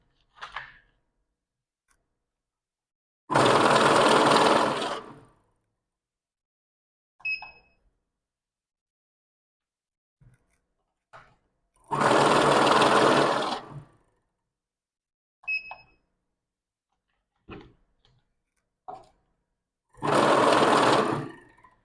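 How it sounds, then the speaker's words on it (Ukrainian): A NanoCash MINI banknote counter counts notes in three loud whirring bursts of a couple of seconds each, separated by quiet gaps with small clicks and beeps from the machine's buttons. "Ми послідовно задавали номінали банкнот, які клали на перерахунок, і лічильник видав загальну кількість банкнот та загальну суму."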